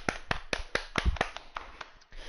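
A group of people clapping hands in a burst of sharp, irregular claps that start strong and gradually thin out over a couple of seconds, fairly close.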